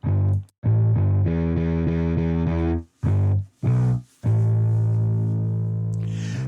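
A heavily distorted rock bass tone plays a series of sustained notes and short phrases, separated by brief silences, with a gritty, chorus-tinged sound and no voices.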